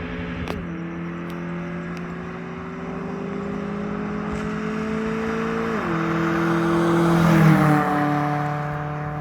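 Modified car on a test pass, engine droning steadily with a smooth rising and falling tone, swelling louder as it nears and passes, with no talk.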